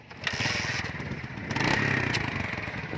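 A motorcycle engine putters nearby with a rough, rhythmic chug, growing slightly louder midway and running steadily throughout without any talking.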